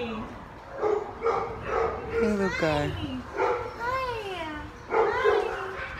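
Several dogs at an animal pound bark and yip in short bursts with a few whimpering, rising howl-like notes, fairly close, while a person speaks softly over them.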